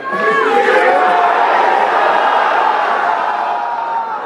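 A convention crowd at New York Comic Con lets out a loud group shout, a dense sustained roar of many voices with a few higher whoops near the start, holding steady for about four seconds.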